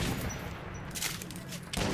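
Gunfire erupts in the shooter game Metro 2033, a dense burst of several rapid cracking shots near the start and again near the end, loud and close, over a busy noisy background.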